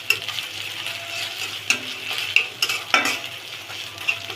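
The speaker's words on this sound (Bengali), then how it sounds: "আবার কিছুক্ষণ নেড়ে নিব। আদা রসুনের কাঁচা গন্ধটা চলে যাওয়া পর্যন্ত একটু নাড়তে থাকবো।" Ginger-garlic paste and onions are stirred and fried in a pan, giving a steady sizzle broken by sharp scrapes of a spoon against the pan. The sound is close and continuous, with no talking.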